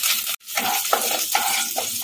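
Cumin, mustard seeds and curry leaves sizzle loudly in hot ghee in a pan, with a brief cutoff at the start followed by steady crackling and spitting bursts.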